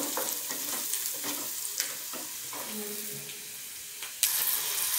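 Aubergine bharit mixture with salt cooking in oil, a close sizzle with scraping stirs and utensil clicks, a louder burst of frying near the end, and a faint voice in the background.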